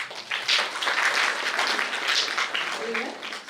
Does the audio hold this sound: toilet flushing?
no